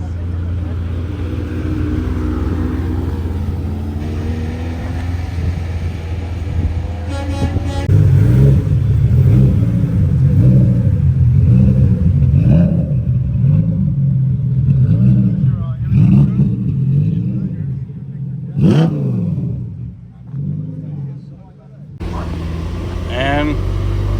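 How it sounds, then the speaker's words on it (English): A yellow Ferrari F50 supercar passing at Monterey Car Week, its engine swelling to a loud, close roar and then easing away, with people talking over it. "And the yellow Ferrari F50 just driving by casually while we're filming this."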